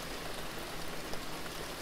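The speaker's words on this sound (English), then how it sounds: "When it's raining, I feel comfortable too." Soft, even rainfall from a video game patters faintly and continuously at low volume, alone with no voices.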